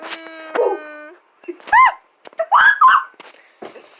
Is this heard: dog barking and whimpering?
yes